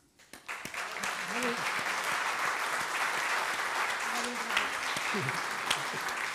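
A crowd applauds at an oceanography and arts-and-sciences presentation held at a museum, sustained even clapping from a seated audience for several seconds after a quick start, with faint voices underneath.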